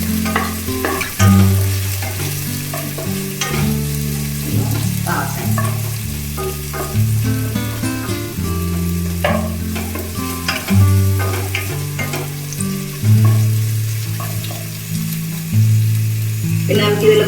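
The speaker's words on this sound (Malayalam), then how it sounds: "സവാള ചെറുതായിട്ട് അരിഞ്ഞതും പച്ചമുളകും ഇതൊന്ന് അരിഞ്ഞ് ബ്രൗൺ നിറത്തിലാവുന്ന വരെ" Chopped onion and green chili frying in a pan until brown, a continuous sizzle with frequent stirring scrapes over background music, with little or no talk.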